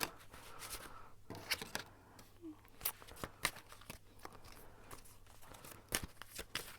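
Tarot cards are shuffled close by in quiet, irregular bursts of crisp riffling and soft slaps.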